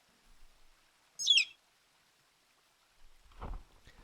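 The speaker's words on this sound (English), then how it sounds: "those are the eagle cries, by the way, that are happening every so often" An eagle cry from the Unity VR game Eagle Dive, one brief high screech that sweeps downward, standing out against near silence, followed later by soft low thumps.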